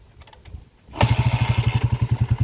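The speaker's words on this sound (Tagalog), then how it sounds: "Yan yung andar ng hybrid na timing gear mga kabro" A motorcycle fitted with a hybrid silent timing gear set is started: a quiet crank, then the engine catches and settles into a loud, even, rhythmic idle putter close by.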